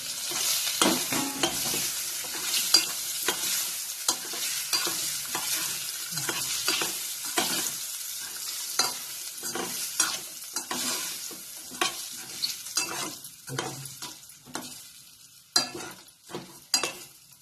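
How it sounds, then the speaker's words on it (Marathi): Khandvi mixture stirred in a pan after mustard seeds, curry leaves and slit chillies go in, with a frying sizzle under repeated spoon scrapes that grow sharper and more spaced toward the end. "मधून कट केलेली मिरची हे घालून मिश्रण चांगलं हलवायचं"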